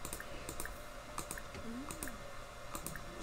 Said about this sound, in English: I'm just kind of like just clicking on things.